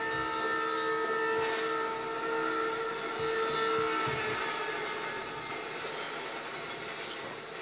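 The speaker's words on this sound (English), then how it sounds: "in this scene, a train is coming and Brian and Toretto, they make it across" A train's steam-like whistle blares loudly in a Fast and Furious movie scene, a sustained tonal blast with hissing rail noise underneath that fades gradually over several seconds.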